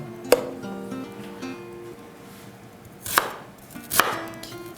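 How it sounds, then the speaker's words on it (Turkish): A few sharp knife chops on a board while preparing eggplant, spaced irregularly: one early, then two close together near the end, with quiet kitchen hum between. "Rendelemeyeceğim, sadece doğrayacağım."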